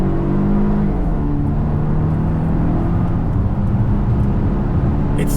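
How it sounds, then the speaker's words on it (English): The four-cylinder engine of a 2020 Volvo XC90 T8 plug-in hybrid under acceleration, a steady, subdued droning hum with rising engine tones, heard from inside the cabin and kept fairly distant. "Four-cylinder engine."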